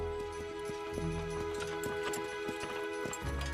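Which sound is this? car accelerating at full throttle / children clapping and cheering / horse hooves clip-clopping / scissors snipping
horse hooves clip-clopping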